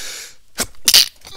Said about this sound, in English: excuse me, didn't mean to sneeze.